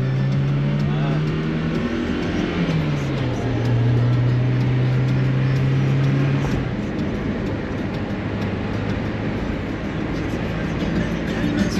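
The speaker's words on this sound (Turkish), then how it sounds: "Ne araba? 412 Moskoviç." A Moskvich 412 car drives along a road, its engine droning steadily with a pitch shift partway through, and road noise continues throughout.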